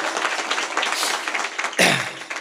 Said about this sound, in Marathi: एकदा त्यांच्यासाठी जोरात टाळ्या वाजवा.